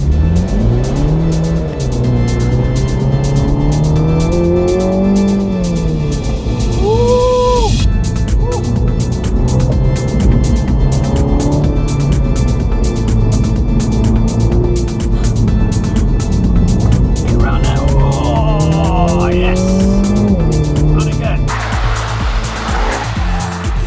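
A MINI GP3 on its first lap of a track day, engine revving up and down through gear changes with occasional tire squeal, loud and close from inside the car, engine note continuous throughout.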